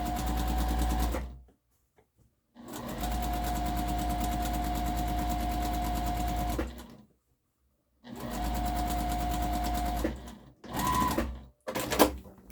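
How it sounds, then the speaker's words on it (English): Sewing machine running in long continuous bursts as it stitches a channel one inch from the edge of a harvesting apron, with a steady mechanical whir, pauses of near silence between runs and short final bursts. "Okay, so now I have sewn the channel"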